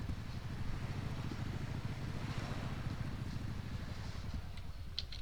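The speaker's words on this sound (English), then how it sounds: "I'm going to take the boat out a little bit." A boat in the Ultimate Fishing Simulator video game motors across the water with a continuous low, droning engine rumble. Wind-like and water noise sit steadily on top throughout.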